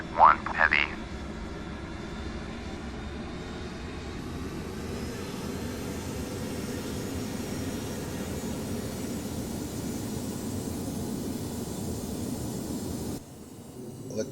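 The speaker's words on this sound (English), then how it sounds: "Time to get this plane in the air" Airliner engines in the FSX flight simulator build into a steady broad roar during a takeoff roll after a short burst of clicks, continuing evenly for several seconds before cutting off abruptly.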